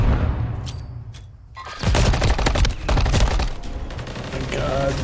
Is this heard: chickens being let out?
no